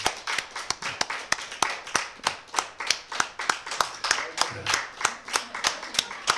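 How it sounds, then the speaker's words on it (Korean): A church congregation claps in a steady, even rhythm of about three claps per second to welcome a missionary, crisp and unbroken with no talking. "우리 선교사님 나올 때 한번 크게 박수로 할렐루야 한번 환영하겠습니다"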